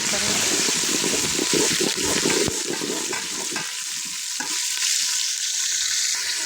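Tomatoes and green chillies frying with well-browned onions for an aloo pulao and dal dish, a steady broad sizzle with stirring scrapes and a sharp clack partway through, close and fairly loud.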